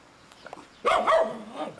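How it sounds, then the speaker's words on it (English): A dog at a house with a yard near a gate in Prague gives a short, loud bark or yelp burst after a quiet start, close by and alone. "That's the doggy."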